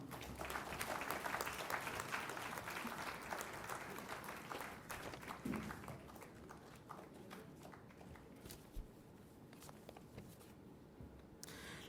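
Faint, steady applause from a degree ceremony audience for prize winners, a continuous wash of clapping lasting the whole stretch with slight dips and a few louder claps.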